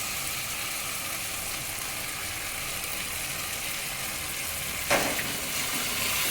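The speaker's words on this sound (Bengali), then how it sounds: "এবারে দেবো টমেটো সস," Chilli chicken fries in a hot pan with a steady, loud sizzle, then a sudden burst of spitting as tomato sauce is poured in near the end.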